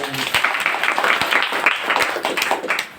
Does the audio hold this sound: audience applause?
yes